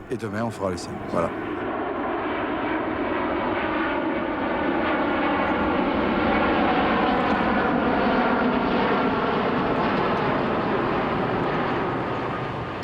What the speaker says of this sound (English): We're waiting for the plane to land.